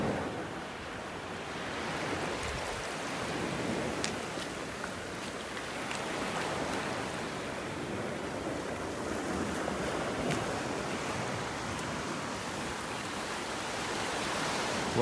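Surf rolls onto a beach in North Naples, Florida in a continuous, even wash of breaking waves, heard from nearby along the shore with no voices over it.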